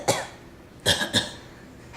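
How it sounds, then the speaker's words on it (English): A child coughs three times in quick succession, with one short cough followed after a pause by two closer, harsher coughs, loud and near in a quiet room. "Oh. Terrible cough."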